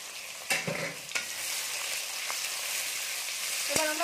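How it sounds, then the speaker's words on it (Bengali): Chopped onions sizzle in hot mustard oil with whole garam masala while being stirred for a chicken leg piece recipe, a steady bright hiss broken by a few scraping knocks of the spoon against the pan, close and alone. "এবার আমরা পেঁয়াজটাকে একটু ব্রাউন কালার করে ভেজে নেব"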